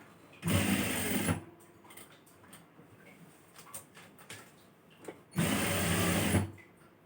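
A sewing machine stitches a chudithar neck in two loud, steady runs of about a second each, close by, with quiet handling and fabric shuffling in the pause between them.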